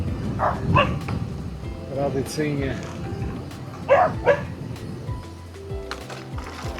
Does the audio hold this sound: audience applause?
no